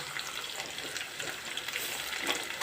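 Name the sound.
vegetables frying in a pan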